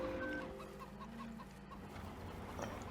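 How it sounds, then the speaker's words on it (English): Several chickens cluck continuously close by in the farming game Mountain Valley Farm, a busy overlapping chatter of fowl with no voices. "These chickens, they're everywhere."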